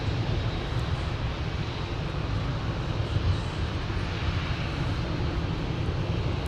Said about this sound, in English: just about ready to touch down on runway 35 is the Sun Country retro livery from Denver